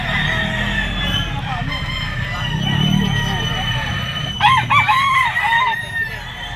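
A stag gamefowl crows at a busy outdoor pet market, the harmonic call rising over steady crowd chatter and background noise, with a voice talking nearby throughout.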